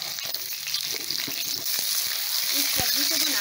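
Hog plum pieces fry in hot oil with crackling fenugreek seeds, a steady close sizzle with occasional stirring knocks and scrapes from the pan.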